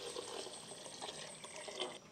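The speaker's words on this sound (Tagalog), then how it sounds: "Tapos magdadagdag pa rin tayo ng konting tubig." A little water is poured into a pot of creamy chicken sopas soup, a faint, steady splashing stream that runs without a break and thins out at the end.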